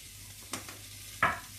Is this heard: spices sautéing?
yes